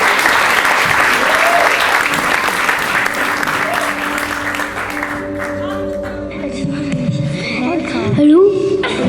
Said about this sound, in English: Give them a round of applause as they make their way up onto the stage.